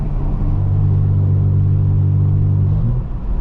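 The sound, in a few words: loud straight-piped BMW M4 F82 exhaust in a tunnel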